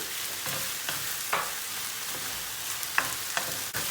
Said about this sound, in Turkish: Salçayı iyice bir kavuracağız.